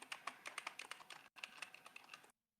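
Rapid typing on a computer keyboard, a dense run of close, crisp key clicks with a brief pause near the middle before the tapping resumes and then stops abruptly.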